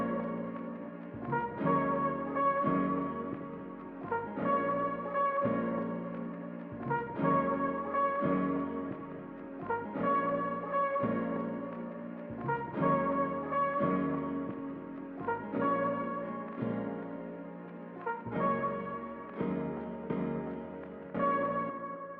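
Pitched-down, chopped loop of an instrumental intro plays alone, a steady sustained harmonic bed repeating in roughly two-and-a-half-second phrases, with no drums.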